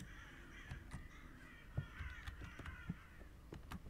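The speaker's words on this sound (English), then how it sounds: "Damn, there's a lot of fucking birds out there." Crows caw repeatedly in a horror game set at Christmas time, several harsh calls spread across a steady ambient backdrop, moderately distant and unaccompanied by talk.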